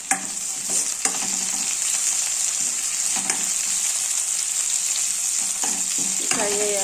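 Curry leaves fry in hot oil for a Telugu ivy gourd fry, giving a loud, steady close-up sizzle with occasional stirring clinks throughout.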